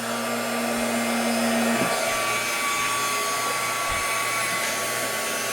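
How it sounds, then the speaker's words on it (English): A heat gun warms embossing powder on a stamped card with a steady, loud blowing whir and a faint motor hum that stays unchanged throughout, close by with no voices. "I usually let my heat gun run for a few seconds"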